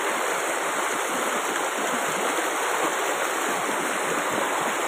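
Steady, loud rush of river water flowing over large rocks, a continuous broadband wash with no break from start to end and no voices.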